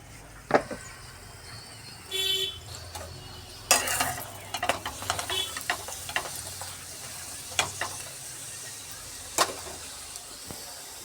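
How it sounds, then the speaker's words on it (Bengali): Parathas frying in a pan give a faint steady sizzle beneath scattered sharp clicks and taps of a utensil against the pan, with a few louder scraping bursts spread unevenly across the stretch. "এই যে এখনও বেলা বাকি কয়েকটা, ভাজা চলছে, দেখো ফুলছে কি সুন্দর।"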